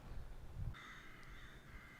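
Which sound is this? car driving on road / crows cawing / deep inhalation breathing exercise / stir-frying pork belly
crows cawing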